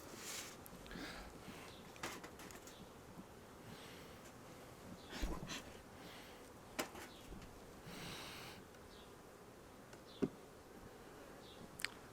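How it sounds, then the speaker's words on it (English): Newly swarmed honeybees packed into a hive box in a spring apiary, buzzing in a low continuous hum close by with brief louder bursts from individual bees passing near, and a few sharp clicks and knocks. "This one was the first swarm, and it's just jam-packed with bees."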